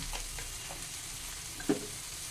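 Small river fish fry in a pan with ginger, turmeric, red chilli powder and salt, a faint, even sizzle with light stirring and one short clack of a spoon on the pan.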